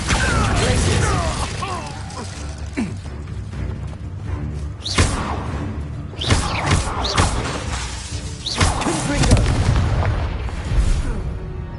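Fire and blast spells in the fantasy game Hogwarts Legacy go off as booming, crackling bursts over a dense, continuous combat din, with sharp impacts around five, six and nine seconds.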